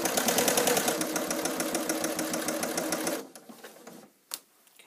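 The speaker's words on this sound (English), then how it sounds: "Just continue to sew." A sewing machine stitches binding along the side seam of a bag in a steady, fast, close-up whir for about three seconds, then stops, leaving a few faint handling sounds.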